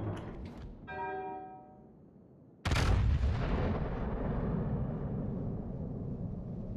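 Warship guns fire in World of Warships: a few faint clanks and a ringing metallic tone, then one sudden heavy cannon blast whose deep rumble holds on loud to the end.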